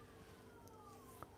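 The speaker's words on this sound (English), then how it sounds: "Ambulance or fire brigade." A distant ambulance or fire engine siren passes outside, a faint, gliding wail sweeping slowly downward in pitch, low under the room's quiet background.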